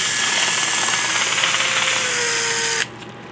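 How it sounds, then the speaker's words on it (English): A power drill spins a screw from a pistol kit's metal hardware against sandpaper, whining steadily and loud at close range for almost three seconds before cutting off abruptly, leaving a quieter hum. "Really easy thing to do is chuck it up in a drill or in your lathe and run it"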